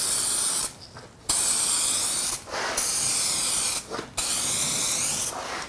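Loud hiss of an aerosol spray can coating a car headlight, in long bursts of about a second and a half, separated by brief pauses.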